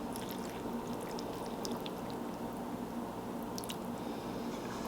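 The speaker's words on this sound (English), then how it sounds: "Add our broth and turn it to my side." Hot broth poured into a homemade ramen bowl topped with egg yolk and black sesame seeds in a tiny apartment kitchen: a steady, continuous close-up splash and trickle of liquid lasting throughout.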